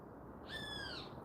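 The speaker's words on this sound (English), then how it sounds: "You hear the birds chirping." A single outdoor bird call, one clear, slightly sliding whistled note lasting about half a second, faint and alone over a soft background hiss.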